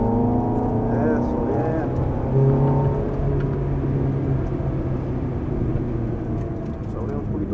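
A Ferrari F430 on a race track brakes into a corner and then accelerates out, its engine a steady loud drone with shifting tones, while someone talks over it throughout.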